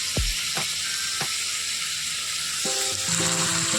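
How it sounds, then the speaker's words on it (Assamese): Borehole drilling work nearby sounds as faint intermittent mechanical knocks and a thin whine, while meat fries with a soft steady sizzle in a home kitchen. "আমাৰ ওচৰতে বৰিঙৰ কাম কৰি আছে, সেই শব্দটো আহি আছে।"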